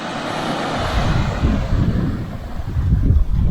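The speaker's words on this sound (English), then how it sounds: "Only problem is the wind." Strong wind gusting on the coast of a Greek island by the water, a continuous low roaring rumble buffeting the microphone, swelling and fluctuating throughout with no talking.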